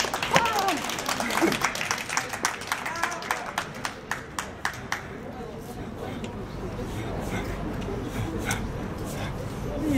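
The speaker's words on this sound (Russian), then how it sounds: "И тут аплодисменты, аплодисменты, аплодисменты." Audience applause at a live performance, loud clapping from a crowd that starts strong, keeps a steady rhythmic beat for several seconds, then thins into scattered claps over a murmuring hall.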